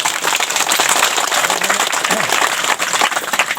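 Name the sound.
audience clapping loudly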